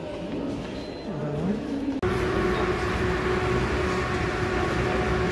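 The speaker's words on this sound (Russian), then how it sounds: "Чтобы добраться из терминала Б в терминал F, нам надо поедем на поезде." Inside a Sheremetyevo airport terminal, a people-mover train rumbles in a broad steady roar that swells abruptly partway through, the running noise of the car and tracks close and loud.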